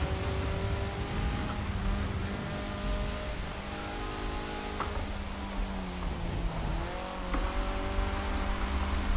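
A Spec Miata MK5 cup car in a sim racing game, its engine droning and shifting pitch steadily as it slides around in the rain, with continuous tire and road noise throughout.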